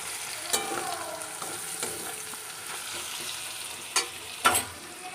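Chopped onions frying in oil in a pan for chicken kosha, a steady close sizzle with a few sharp spatula scrapes and clinks toward the end, no talking.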